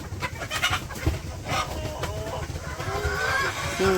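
Chickens cluck and call in bursts, close by and fairly loud, with scattered bird chirps over a steady background of farmyard noise.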